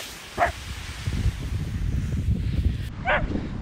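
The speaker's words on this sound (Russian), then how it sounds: "Что так гавкать, а?" A dog barks outdoors near Budva, two short sharp barks a few seconds apart with rustling and movement noise between them.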